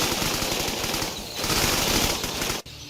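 Rapid semi-automatic gunfire in a Vietnam-themed Serious Sam mod, a dense stream of loud close shots that continues for over two seconds before cutting off abruptly into quieter game ambience.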